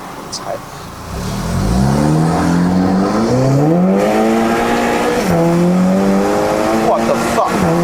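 A Stage 3 MK6 VW Golf GTI with a DSG gearbox accelerates hard from a standstill, its engine climbing loudly through several rising sweeps with quick gear changes in between, heard from inside the car with some talk over it.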